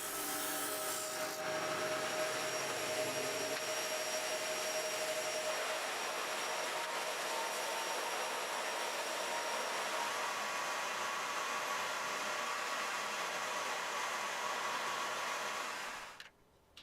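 Disc and belt sanders round off the corners of wooden pieces, making a continuous close abrasive whir with a rising rubbing rasp that stops abruptly at the end.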